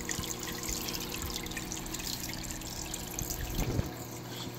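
An aquarium filter pump returns water to the tank as a small waterfall, giving a steady close trickle and splash with a continuous low pump hum running through the whole stretch.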